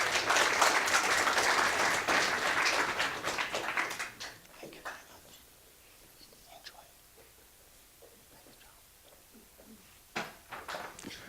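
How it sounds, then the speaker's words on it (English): Conference audience applauding two adjudicators called up to receive a gift, a loud burst of clapping for about four seconds that thins to scattered claps and quiet room noise, then a brief final flurry. "Please give them a round of applause."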